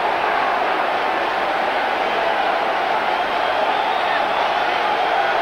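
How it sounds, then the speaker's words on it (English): Aston Villa fans in a 1994/95 League Cup match against Crystal Palace cheer a goal in a dense, unbroken stadium roar that stays loud and level throughout. "the Villa fans worried that their side were down to 10 men certainly have plenty to cheer"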